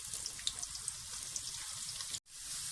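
A medium-sized onion fries in hot oil with whole spices such as cardamom, star anise and a cinnamon stick, giving a steady, close crackling sizzle with scattered pops and no talk.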